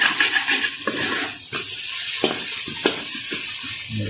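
Chicken fried rice sizzles and fries in a hot pan as it dries out. The crackling hiss is steady and close, with occasional stirring scrapes.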